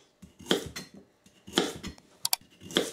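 Kitchen knife chopping carrots into big rustic chunks on a board, for lamb scouse: a few sharp, irregular chops and clicks with short pauses between them, close and fairly crisp, no talking.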